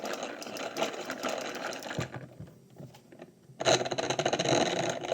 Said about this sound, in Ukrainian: І ось така у нас сіялка виходить. Тестуємо.